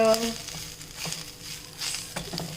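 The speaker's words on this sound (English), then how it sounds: "without adding any oil, we have to dry fry this curry leaves" Two handfuls of curry leaves dry roasting in a pan without any oil give a steady, close crackling sizzle, with light stirring scrapes now and then.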